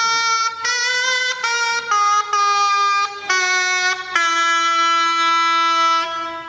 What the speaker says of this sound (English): Predecessor of the oboe.